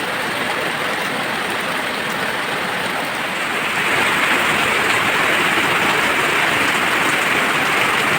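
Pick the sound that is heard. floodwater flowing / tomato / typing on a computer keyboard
floodwater flowing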